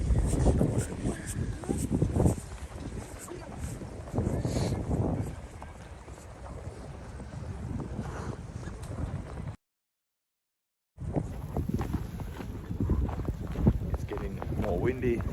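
Strong wind buffets the microphone in steady gusts in Vyborg's old city, with a low roar throughout and a brief dropout of silence partway through.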